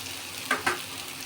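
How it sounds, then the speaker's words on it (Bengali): Spice paste frying in oil for a fish curry gives a low sizzle, with two quick stirring scrapes of a spoon close by. "মশলাটা ভালো করে ভাজা হয়ে গেছে, তেল ছেড়ে দিয়েছে।"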